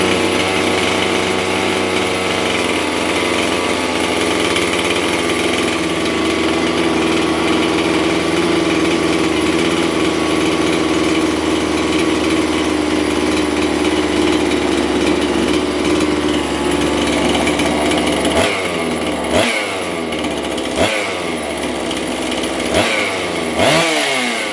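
A repaired Husqvarna 257 chainsaw runs loud and steady at a high, buzzing idle for about twenty seconds, then blips through several sharp revs near the end.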